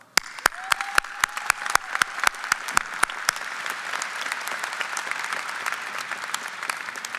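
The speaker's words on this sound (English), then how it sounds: "Let's thank her by giving her a round of applause." An audience at an electrical engineering graduation ceremony breaks into sustained applause, dense clapping from many hands holding steady for several seconds with a few sharp knocks early on.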